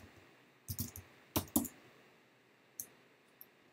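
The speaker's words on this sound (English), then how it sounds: "I can type in something else." A few scattered, quiet keystrokes on a computer keyboard while coding in React, isolated clicks in small bursts separated by pauses.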